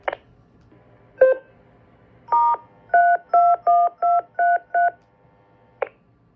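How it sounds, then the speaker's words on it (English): DTMF keypad tones sent over an FDX53D radio: a short burst, then a run of about seven evenly spaced dual-pitch beeps, clean and fairly loud over a faint steady hum, ending in a brief click. "testing DTMF on the FDX53D"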